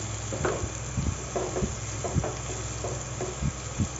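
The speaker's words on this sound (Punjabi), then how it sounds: "ਅਤੇ ਨਾਲ ਹੀ ਪਿਆਜ਼ ਪਾ ਦੇਣਾ ਅਤੇ ਇਹਨੂੰ ਹਲਕਾ ਜਿਹਾ ਆਪਾਂ ਭੁੰਨ ਲੈਣਾ" Onions lightly frying in a pan, a soft continuous sizzle with a faint scrape and stir recurring every half second or so, fairly quiet and with no voices.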